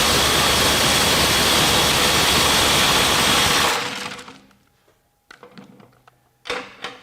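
A Milwaukee impact driver under a torque test toward 400 foot-pounds with a 1/4-inch impact adapter gives a loud, dense hammering roar for nearly four seconds. It then stops abruptly, leaving faint clicks and knocks.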